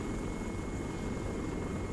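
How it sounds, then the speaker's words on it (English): Steady, droning rotor and engine noise of a helicopter in the military video game Arma 3, heard close and continuous without variation. "everybody can hear the helicopter and stuff like that"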